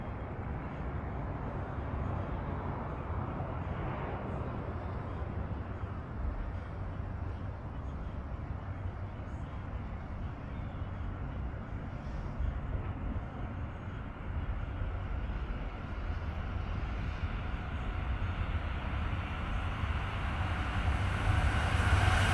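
A Brightline train diverges off the Florida East Coast Railway onto the Orlando line at CP Cocoa in Brevard County, making a steady, loud, roaring rumble that swells slightly toward the end, with no voices over it.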